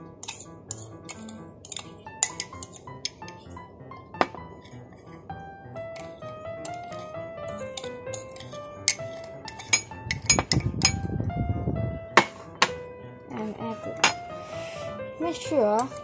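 A metal spoon clinks repeatedly against a glass or cup while stirring instant coffee, sugar and hot water, with irregular bright taps and a brief rushing stir in the middle, close and clear.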